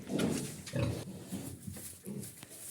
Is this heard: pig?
yes